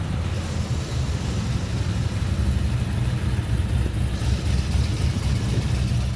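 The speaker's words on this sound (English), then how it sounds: "Listen to that V8." A V8 in an HSV VE Maloo R8 ute idles steadily, a loud, dense low rumble that stays even throughout with no talking.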